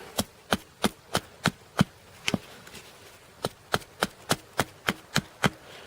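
A pocket knife or hatchet chops downward into wood in rapid, evenly spaced sharp strikes, about six, a brief pause, then another quick run of seven or so, close and crisp.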